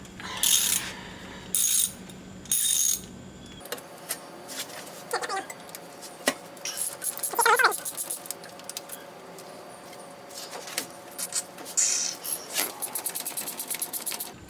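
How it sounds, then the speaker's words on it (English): Ratchet wrench loosening bolts on a 1939 Buick, fast bursts of clicking pawl teeth in short strokes, then scattered tool clinks and scraping in a quiet garage. "Just when you think you don't need the ratchet anymore."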